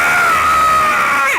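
A person's voice imitating a horrible scream, one loud, sustained, shrill cry held for over a second, close and alone, sliding downward at the very end.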